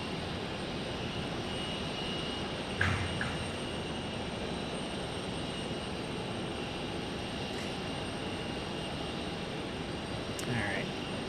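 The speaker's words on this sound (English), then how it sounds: "it looks like they got WestJet pushing back too" A WestJet airliner pushes back at Phoenix Sky Harbor Airport, giving a steady, fairly distant engine hum with a few faint brief knocks over a constant background rush.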